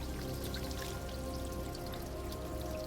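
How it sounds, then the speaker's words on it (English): Gasoline pouring out of the fuel-soaked fuselage of a crashed plane on a mountain airfield, a steady splashing, trickling flow heard close and continuous with no talk. "The gasoline was still just pouring out of the plane"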